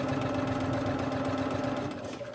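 A sewing machine runs steadily, stitching a casing along the nose wire of a child's adjustable fabric face mask, a close, continuous mechanical hum and rattle that eases slightly toward the end.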